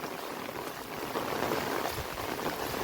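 Heavy monsoon rain pours down steadily on a farm in Gujarat, a dense, loud, continuous hiss of falling water with no voices over it.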